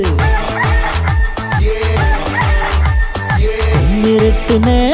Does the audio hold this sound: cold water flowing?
no